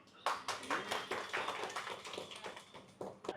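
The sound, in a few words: people clapping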